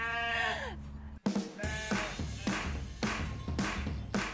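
Thin-wool Palu sheep bleat repeatedly, several overlapping calls close by, loud and wavering, with short breaks between bursts.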